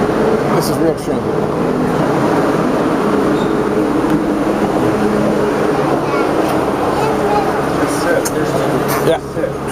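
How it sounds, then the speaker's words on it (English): A packed Boston subway train rides with a loud, continuous rumble and rattle, broken by occasional sharp squeaks and clanks, while voices murmur faintly underneath. "This is real train."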